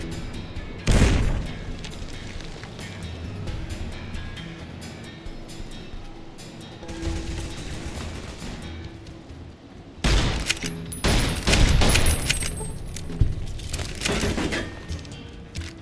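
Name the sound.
gunfire in video game Fallout New Vegas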